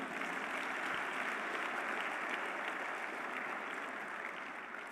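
A church congregation applauds during a worship service, a steady wash of clapping that stays fairly even and moderately distant throughout, with no voices standing out.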